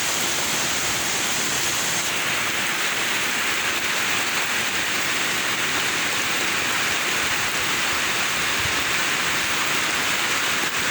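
Heavy rain pours around a house near a river and flooding fish ponds, a dense, unbroken hiss of downpour that is loud and close and steady throughout, with no voices.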